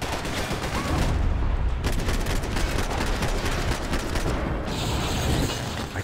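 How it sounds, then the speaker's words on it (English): Gunfire aimed at a ceiling in Max Payne 3, a loud, continuous fusillade of rapid shots with heavy booming impacts lasting around six seconds, dense and close with no voices over it. "So we gotta shoot the ceiling to get him, like that."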